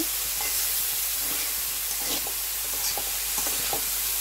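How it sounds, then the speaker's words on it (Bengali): Onion, garlic and ginger paste stir-fried in a pan, with a steady broad sizzle and hiss and occasional scraping stirs, heard close and alone without talk. "আবার একটু নাড়াচাড়া করে মিশিয়ে নেব। যেহেতু আদা বাটা দিয়েছি, পেঁয়াজ রসুন দিয়ে এভাবে একটু ভেজে নেব।"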